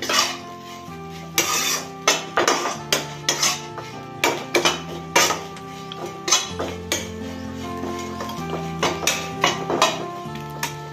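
A metal spoon mixing red chili powder and black pepper into vermicelli upma in a pan, making repeated sharp clanks and scrapes at a steady stirring rhythm over quiet background music.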